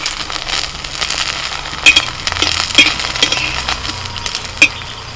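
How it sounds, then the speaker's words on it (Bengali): Pithe cakes fry in ghee with a steady, close sizzle and crackle, broken by a few sharp clinks of a utensil against the pan. "আমি একটু ঘি দিয়েই ভাজছি"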